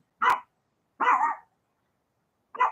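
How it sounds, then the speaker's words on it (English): A dog barks three times close by, sharp single woofs spaced apart with quiet gaps between them. "Maybe the dog barking will set it off."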